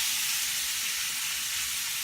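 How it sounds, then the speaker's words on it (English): Chicken sizzling steadily in a cast iron pan over medium-low heat, a constant bright crackling hiss close by with no talking. "it's still getting that sizzle."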